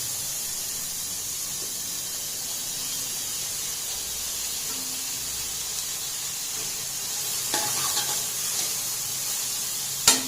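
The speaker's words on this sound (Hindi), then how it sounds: "और देखिए गैस का आंच एकदम स्लो है, और इसको हम इस तरह से पकने के लिए, प्याज को पकने के लिए छोड़ सकते हैं।" Onions cooking in a pan over a low gas flame give a soft, steady sizzle and hiss, with a few brief stirring clatters near the end.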